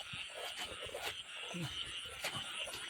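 Frogs croak along a forest stream at night, in repeated rough calls of varied pitch, close and moderately loud over a steady chorus of insects.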